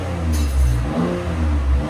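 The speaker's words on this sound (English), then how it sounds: "That's not bad for a muffler delete." A 2020 Chevy Blazer RS with a muffler delete revs close up, a loud throaty engine note rising and falling through a couple of blips.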